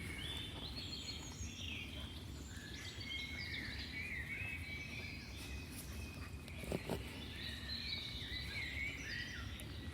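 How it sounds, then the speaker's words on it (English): Birds chirp and trill softly in the distance over a steady bed of insect buzzing, a continuous outdoor chorus with no talking. "The bird song."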